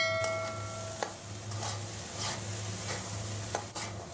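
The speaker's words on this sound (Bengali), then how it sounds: "গাজর, ক্যাপসিকাম সব এবার একসাথে ভেজে নেব।" Carrots and capsicum stir-fry together in a pan for vegetable chow mein, giving a quiet, steady sizzle broken by a few sharp spatula scrapes and clicks, with no talking.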